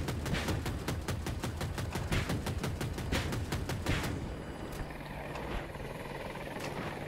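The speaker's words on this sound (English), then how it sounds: "Chopper." Helicopter in the shooter game Battlefield 2042, a loud rotor thrum mixed with dense rapid gunfire bursts for the first four seconds, then a steadier whirring drone with scattered distant shots.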